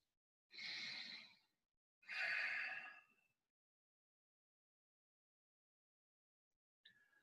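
Two slow, deep breaths during a held warrior two yoga pose, each lasting about a second, close and soft in an otherwise quiet room, followed by a brief faint breath at the end.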